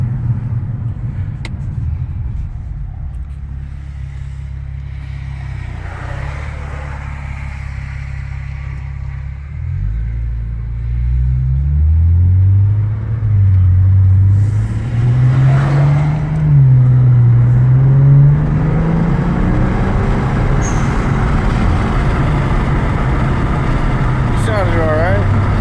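An Infiniti Q60 fitted with an HKS blow-off valve idles, then accelerates onto a highway, its engine note rising and falling through gears from inside the car, while someone talks over it.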